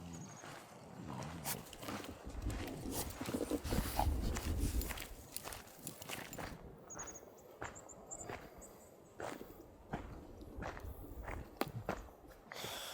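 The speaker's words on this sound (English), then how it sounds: "Thought I'd go on a walk down this little ravine area with the pups." Footsteps crunch down a ravine trail on a walk with dogs. The steps are irregular and close, with scuffs and rustles, and a few faint high tones come in partway through.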